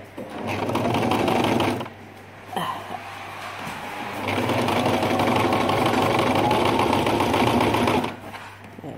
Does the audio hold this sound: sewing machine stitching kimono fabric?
yes